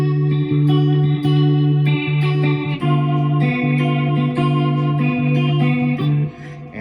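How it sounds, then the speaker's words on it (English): An electric guitar through a Keeley Dark Side pedal plays distorted, fuzzy sustained chords and riffs with a swirling, warbling rotary modulation, loud and continuous with no voices. "this is the Keeley dark side here, so that's where I'm getting my fuzz from"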